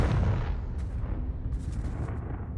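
The Confringo fire spell from Hogwarts Legacy goes off as a loud, rumbling blast that rolls and crackles, then slowly fades over a couple of seconds.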